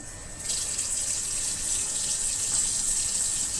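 A kitchen tap runs steadily with both hot and cold water on, a continuous broadband rush of water splashing into a sink that swells in after a brief quiet start and stays fairly loud, with no talking.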